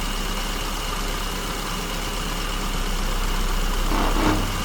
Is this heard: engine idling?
yes